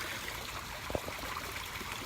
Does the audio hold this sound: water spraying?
yes